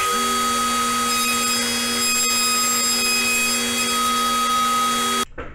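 A high-pitched router whines steadily as it cuts a round-over profile on a quarter-inch wood strip, a constant loud tone that stops abruptly near the end.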